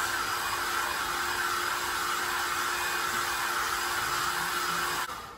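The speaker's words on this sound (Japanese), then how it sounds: "内部にドライヤーを当てます。" A hair dryer on a hot setting blows continuously at close range into the inside of a Louis Vuitton item, a steady whooshing roar with a faint whine, cutting off just before the end.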